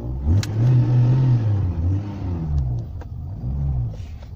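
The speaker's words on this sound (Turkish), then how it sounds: "Tabii tüpe geçerken mutlaka gaz vermemiz gerekiyor." A car engine revs repeatedly while its fuel supply is switched from petrol to LPG, a close, loud rumble rising and falling in several throttle bursts with no speech.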